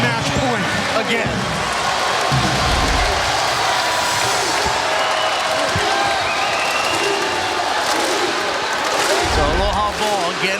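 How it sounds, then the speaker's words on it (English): Crowd clapping and cheering fills a college men's volleyball arena as spectators stand for Hawaii against Long Beach State, a steady dense roar with a commentator talking over it. "Everybody clapping, standing."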